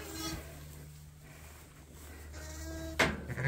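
A ewe bleats on a farm as she searches for her lambs, with sustained harmonic calls near the start and end, the closing call loudest and nearest, over a steady low hum.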